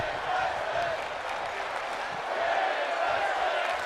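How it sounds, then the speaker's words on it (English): A crowd roaring and chanting in the arena of WWE 2K22, a continuous wash of massed voices rising and falling, with a commentator's voice running over it. "They're saying women's wrestling, the crowd is behind this match."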